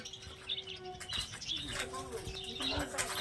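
Caged birds at the Garia bird market, with blue and yellow-sided conures for sale, chirp and call in short bursts over a busy background murmur, with wing flaps and faint voices nearby.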